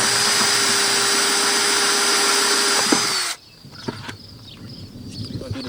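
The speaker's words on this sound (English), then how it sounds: "So I got my inch hole saw in there already, and I just line it up, my drill up with" A power drill fitted with a one-inch hole saw whines loudly as it cuts through a plastic bucket for about three seconds, then stops abruptly, leaving faint handling clicks and rustles.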